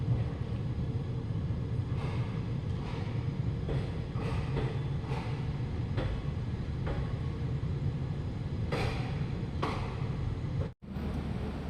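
Steady low rumble of a moving passenger train in Karnataka, bound toward Badami, with rhythmic clacks from the rails, continuous and fairly loud throughout, with a brief dropout near the end.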